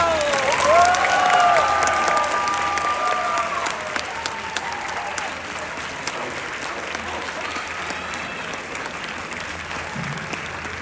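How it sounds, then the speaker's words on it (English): Loud, dense applause from an audience at a band awards event, sustained for about ten seconds and easing slightly after the first few, with a brief whistle or cheer near the start over the clapping. "Let's give him a big round of applause"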